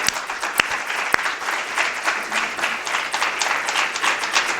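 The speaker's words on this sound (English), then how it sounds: "Let's have a round of applause for the entire class." A class applauds at the end of a semester, with steady, moderately loud clapping from a group throughout and a few sharper individual claps near the start.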